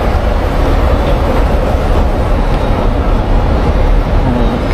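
A Shanghai subway train running, its steady loud rumble and rail noise filling the whole stretch with a continuous close roar and faint clatter, no voices.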